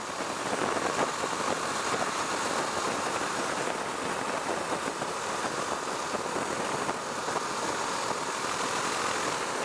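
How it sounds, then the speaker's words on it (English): A Husqvarna Svartpilen 401 single-cylinder motorcycle engine runs steadily at high revs, a dense, unbroken buzzing drone heard close up for nearly ten seconds with no talk. "This engine likes to be revved too, even for a single."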